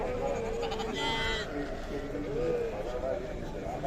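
Sheep bleat amid a steady, busy background of crowd noise and voices at a livestock market in Sokuluk, with a few wavering calls standing out.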